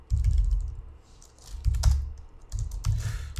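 Clacky keystrokes on a computer keyboard arrive in short uneven bursts, close and fairly loud, with no voices.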